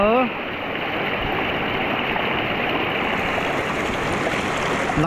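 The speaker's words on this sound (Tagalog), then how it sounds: "Lakas ng tubig." A river swollen after a typhoon rushes hard in a dense, continuous roar. The water is loud and steady and fills the whole clip, and a brief whistle-like tone comes at the start.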